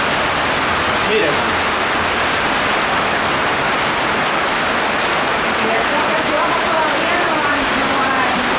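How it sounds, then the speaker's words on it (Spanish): Heavy rain from the rain bands of Hurricane Felix pours down in a loud, unbroken roar of hiss and splatter, with faint voices half buried beneath it. "Son bandas de lluvia"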